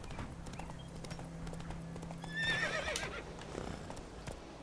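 Horse in The Witcher 3 video game neighing in a sharp whinny midway, over a steady low hum and occasional hoof clops.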